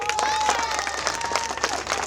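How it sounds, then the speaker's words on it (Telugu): Crowd clapping and cheering at a Republic Day celebration, a dense steady patter of hands with a few whistles rising over it, mixed with background voices. "తన పర్ఫార్మెన్స్ మళ్ళీ కావాలంటే ఒకసారి గట్టి చప్పట్లు కొట్టండి"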